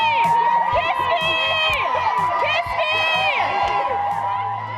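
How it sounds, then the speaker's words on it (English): At the Boston Marathon Scream Tunnel, a dense crowd screams, whoops and cheers continuously at close range, high overlapping shrieks rising and falling loudly over a steady roar. "Among the screams and the hollering, we might also hear some of the women asking for kisses."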